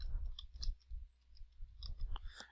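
Typing on a computer keyboard, a handful of close, soft key clicks in short irregular clusters with brief pauses, quiet and without talk.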